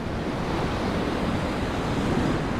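Ocean surf breaks into white water close by along a rocky shore, a steady roaring wash with wind noise on the microphone, continuous and loud throughout.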